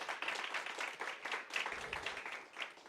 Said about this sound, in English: That deserves some studio applause.